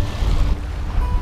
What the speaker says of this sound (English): I love falling asleep hearing the sounds of the waves.